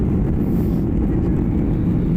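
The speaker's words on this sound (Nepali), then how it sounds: "प्लेन उड्न लाग्यो" A passenger airplane takes off on a flight to Thailand, heard as a steady, loud, broad engine roar with deep rumble and no clear change across the short stretch.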